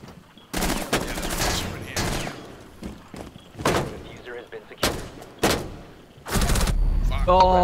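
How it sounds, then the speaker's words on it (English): Gunfire in the video game Rainbow Six Siege: several sharp, loud bursts of shots scattered through the scene, some clustered like rapid volleys, mixed with other game sounds and heavy impacts. "Oh no, how did he shoot around you?"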